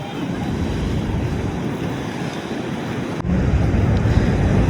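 Waves wash through a seaside wave pool at a village in Australia, giving a continuous roaring surge mixed with heavy wind buffeting close to the microphone.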